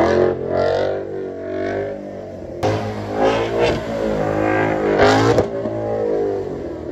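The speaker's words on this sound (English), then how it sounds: "the sound of this Mustang is so good" Ford Mustang V8 engine accelerating hard on a snowy winter road, a loud, rising rev that swells and climbs through repeated gear pulls, close and continuous with no talking.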